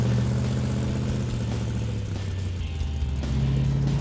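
A 440 engine in a Dodge Dart with an exhaust leak runs steadily close by, a continuous deep rumble with a slight rise and fall in revs and no voices over it.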